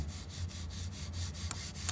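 Steady rhythmic rubbing, a cloth working polish back and forth over a chrome headlight ring in even strokes, close and moderately loud with no talking.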